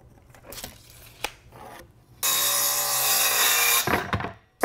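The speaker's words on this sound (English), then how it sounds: "Let's go ahead and cut the pieces for our sides." Wood side pieces for a planter box are cut with a power saw, a loud sustained whining cut of about a second and a half, framed by softer handling knocks and clicks.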